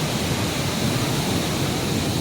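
A waterfall on the Madmaheshwar temple trek in Uttarakhand gives a steady, dense rushing roar with no variation, filling the whole moment without any voices.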